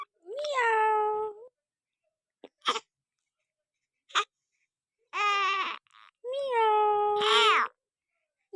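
A young child imitates a cat's meow, giving several drawn-out, high, wavering meows in separate bursts with short breathy sounds between them, close and clear against silence.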